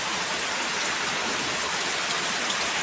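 Steady rain pours down, a dense, even hiss of drops on surfaces without pause.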